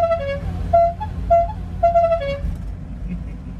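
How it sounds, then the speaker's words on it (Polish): Horns of a 1991 Trabant 1.1 car sound in a series of short, clear, close toots with brief gaps between them, and no voices alongside. "możemy zademonstrować właśnie te trąbki, które widzieliśmy pod maską"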